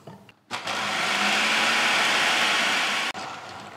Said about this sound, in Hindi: तो ये सारे हम चॉपर में ऐड करेंगे। बिस्किट्स के क्रम्स करते करते साथ ही हम इसमें डाल देंगे मेल्टेड बटर।